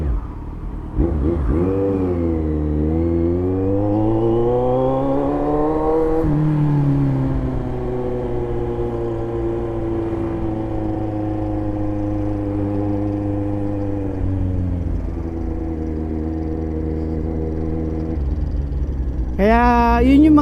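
A C900 motorcycle engine revs up and holds at a high drone, easing back down before a sharp final rev, loud and close throughout.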